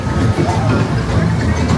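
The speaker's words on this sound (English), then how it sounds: "Here's a train as they come through." A theme park ride train rushes past on its track at an opening-day park, a loud, close, continuous rumble with rattling wheel noise and no pause.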